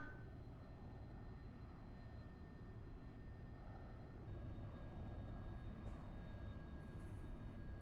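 Continuous droning engine of an aircraft in a virtual airshow flight simulator, a steady mid-level hum with faint tonal whines that swells slightly as the plane circles around for another pass.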